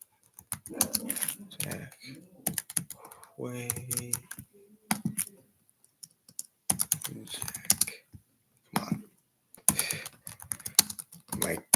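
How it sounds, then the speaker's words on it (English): Fast bursts of clicking on a computer keyboard, close and fairly loud, broken by pauses, while a person talks between and over the typing. "Just give me a second to type this in."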